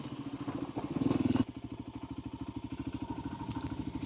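A Kawasaki 300 motorcycle engine built by Loncin idles nearby with a steady, throbbing, slightly clattery pulse, briefly rising in a short rev before settling back to an even rhythm.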